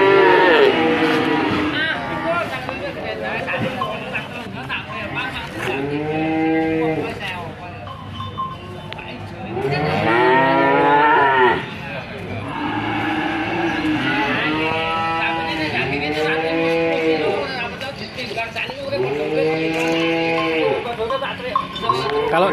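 PO cattle in Kebumen moo loudly and repeatedly, long drawn-out calls close by, one after another with short pauses between them.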